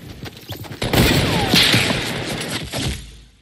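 Gunfire in the Fortnite video game from a hunting rifle, sharp loud shots and crashing impacts that flare after a quieter start, a dense burst of action sound that trails off near the end.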